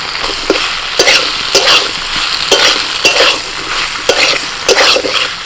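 Pumpkin, potato and pointed gourd fry in a spice paste in a pan, a close crackling sizzle broken by rhythmic scraping stirs of a spatula.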